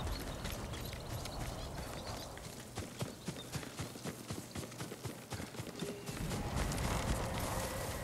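Horse hooves clip-clopping in the video game Ghost of Tsushima, a rhythmic run of close hoofbeats over a loud ambient bed that swells toward the end.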